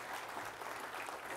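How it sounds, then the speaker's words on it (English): A church audience gives a short round of applause after a Bible message speaker is welcomed, a steady, moderately faint wash of clapping from a crowd for just over a second. "Let's give him a round, warm applause"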